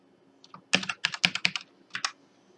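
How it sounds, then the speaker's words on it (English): Data is typed on a computer keyboard in Excel: a short, quiet burst of about a dozen crisp key clicks in quick uneven rhythm, close up with no talking. "Let's type in some data."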